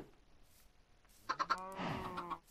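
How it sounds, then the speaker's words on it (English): Minecraft chickens, including chicks, give a few short clucks and a longer drawn-out squawk, fairly close and clear over near silence. "I love the baby chickens."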